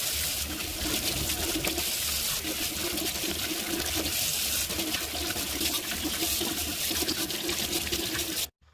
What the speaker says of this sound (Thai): ล้างบีทรูทแล้วค่ะ